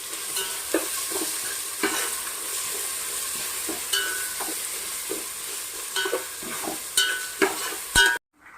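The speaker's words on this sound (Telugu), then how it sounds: "అల్లం వెల్లుల్లి పేస్ట్లో నుంచి మంచి సువాసన వచ్చేంత వరకు వేయించుకోవాలండి" Ginger garlic paste fries and sizzles in a hot pan for a paneer and green pea biryani, with steady crackle and repeated scraping stir strokes close by, ending abruptly.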